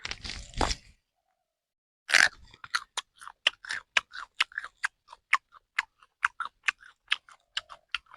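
Food being chewed and eaten during a food review, with a burst of crunching followed by a steady series of short, close, rhythmic bites and chews, heard alone without talk.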